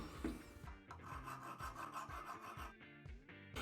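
Metal file rasping along the blade of gardening shears during sharpening, a steady series of close, loud back-and-forth strokes with short gaps between passes, with no talking.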